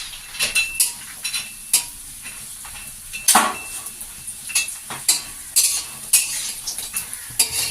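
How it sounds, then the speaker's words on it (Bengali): Lentil dumplings (bori) fry in mustard oil in a wok under a constant bright sizzle, broken by repeated sharp clinks and scrapes of a metal spatula stirring against the pan. "এখন আমি ডালের বড়িগুলো ভেজে নিচ্ছি।"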